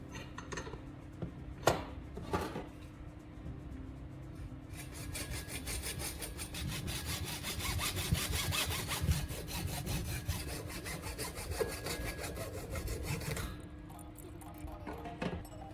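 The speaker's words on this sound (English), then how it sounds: "Use a saw to cut it in half." A hand saw cuts through an old plastic marker clamped in a vise, with steady rasping back-and-forth strokes that grow denser and louder through the middle before easing off, close and alone.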